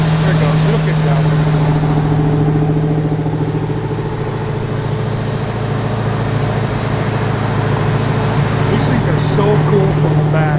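A 1957 Chevrolet Corvette driving, with its engine giving a loud, steady low rumble and strong harmonic drone throughout, rising slightly as the automatic transmission kicks down.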